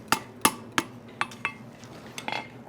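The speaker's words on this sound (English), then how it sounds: "grab it, hot steel, couple hammer blows there" Hammer blows on hot steel chain links at an anvil during forge welding, a few sharp ringing metallic strikes spaced unevenly, then lighter quick taps, close and clear with no talking.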